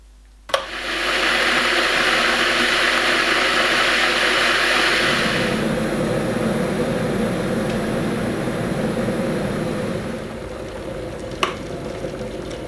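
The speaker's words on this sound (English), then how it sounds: "So let's boil the kettle." An electric kettle heats water to the boil after a click switches it on, a loud, steady rushing roar that swells then eases slightly, with a faint tap near the end.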